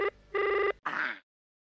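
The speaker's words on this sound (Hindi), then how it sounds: "फोन क्यों बजते मेरी समझ में नहीं आता" A telephone rings indoors in a home, two bursts of bell-like trilling and then a shorter, harsher chirp before falling silent, heard clearly with no talk over it.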